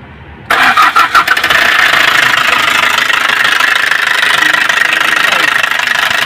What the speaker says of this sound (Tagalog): Problema nito, sobrang ingay ng makina